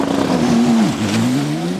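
A Toyota Le Mans prototype race car engine at the 24 Hours of Le Mans, a loud, close, sustained drone whose pitch sags and then climbs again, with a steady whine throughout.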